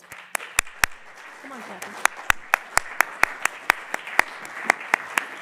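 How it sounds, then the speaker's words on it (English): Conference audience at the NEXT CHINA event applauds the social media associates as they come on stage, a steady wash of clapping with sharp, loud individual claps scattered throughout while a voice talks over it. "let's give them a round of applause"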